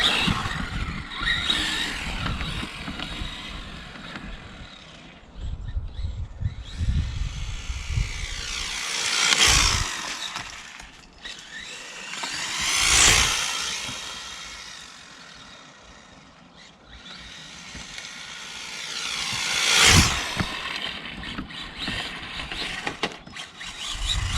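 Brushless ZD Racing S16 Porsche 911 RC car running on a LiPo battery, its high electric whine rising and falling as it makes repeated close passes with accelerating bursts, alone without voices.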